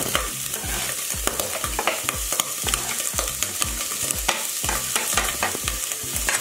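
Bacon and onions fry in a hot pan with a steady, dense sizzle, while a utensil stirs and scrapes in regular strokes close up, with no talking.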